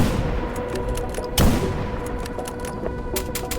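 Gunfire in the survival shooter S.T.A.L.K.E.R. GAMMA amid a dense, loud background of rumble, with a heavier boom near the middle and scattered sharp shots, no speech.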